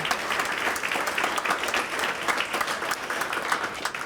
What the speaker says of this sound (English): Big round of applause to his family.